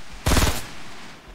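A quick burst of automatic gunfire in the video game Fortnite, a rapid string of sharp loud shots lasting about a third of a second, followed by a fading tail.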